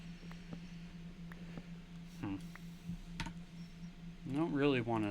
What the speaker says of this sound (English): have my keyboard be as loud, but also that would require probably just getting myself a silent keyboard